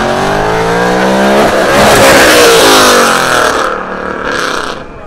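A Ford Mustang S550 accelerates hard nearby, its loud engine climbing steadily before the revs break off and sag at a missed gear shift, with no talking.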